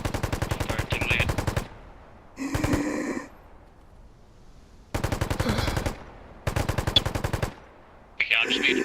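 Automatic machine gun fire in the video game Bellum rattles out in several loud, rapid bursts separated by short quiet gaps, with a brief voice sound between bursts.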